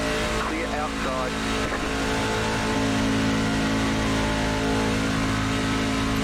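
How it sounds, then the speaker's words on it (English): A NASCAR truck engine drones on the straightaway at Daytona in the iRacing game, steady and loud, with a voice talking over it and the wind noise. "It's so weird to hear the engine just lose that tone on a straightaway."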